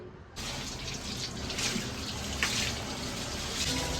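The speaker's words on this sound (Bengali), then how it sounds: "হ্যাঁ ধোবো তো, রানিং ওয়াটারে ভালো করে ধুয়ে নে।" Banana leaves being washed under a running tap, a steady close rush of water splashing into a sink that starts abruptly and continues unbroken.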